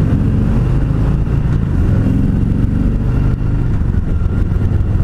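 A 2018 Harley-Davidson Heritage Softail motorcycle idles very low, around 890 RPM, giving a loud, close, steady rumbling throb with no talking over it.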